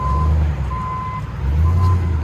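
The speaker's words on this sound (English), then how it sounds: "See, I'm backing up. Beep, beep." Steady electronic reversing beeps, three long tones, sound over a loud, low rumble from a nearby straight-piped RAM Power Wagon's 6.4L HEMI V8.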